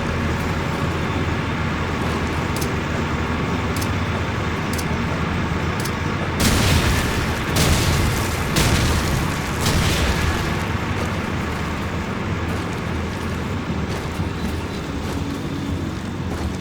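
Explosions and heavy gunfire from tanks being destroyed in the video game Call of Duty 4, a dense, loud wall of booms with several sharper blasts clustered near the middle, continuous throughout with no talk.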